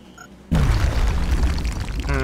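A grenade detonates in XCOM Long War as a sudden loud boom that cuts in after a quiet moment and rolls on as a dense, sustained roar of debris and rumble.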